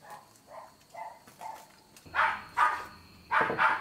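A hungry dog barks repeatedly in a garden, with a run of soft, muffled woofs first and then several louder, sharper barks in uneven bursts.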